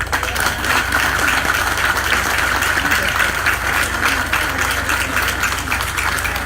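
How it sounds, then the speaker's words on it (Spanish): Audience applause at an evening welcome reception honoring a new ambassador, a dense steady wash of clapping that fills the room without pause, with a low hum running beneath it. "Aplausos."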